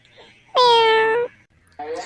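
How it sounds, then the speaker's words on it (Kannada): A kitten gives one loud, drawn-out, close meow, then a second meow starts after a short pause. "ನಿಜವಾಗ್ಲೂ ಬೆಕ್ಕಿನ ಮರಿ ಬಂದಿರೋ ಹಾಗಿದೆ ಎರಡು ಮೂರು ಸಲ ಮಿಯೋ ಮಿಯೋ ಅಂತ ಹೇಳ್ತಿದೆ"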